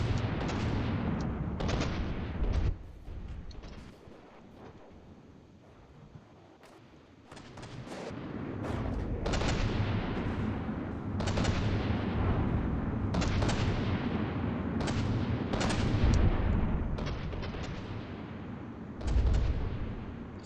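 Turrets fire heavy booming shots in a video game battle, loud repeated blasts in irregular clusters. A quieter lull comes early, and then the firing picks up again and keeps going.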